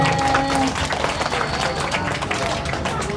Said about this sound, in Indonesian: tepuk tangan untuk anak hebat